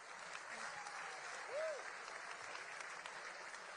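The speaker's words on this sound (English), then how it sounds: "Give her a round of applause," Quiet audience applause at a White House Correspondents' Dinner, a soft steady wash of clapping heard from a distance, with a brief tonal whistle-like sweep partway through.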